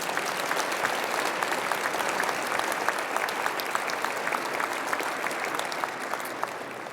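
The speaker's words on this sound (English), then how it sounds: "I just ask for a round of applause for all that work and all those people" A large Match Day audience applauds steadily, a dense wash of clapping that holds even and loud throughout before easing slightly at the end.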